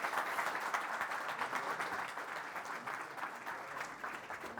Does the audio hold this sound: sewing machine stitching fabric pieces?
no